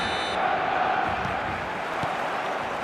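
A football stadium crowd in a video game sends up a steady, dense roar from a large mass of fans, loud and continuous throughout with no clear breaks.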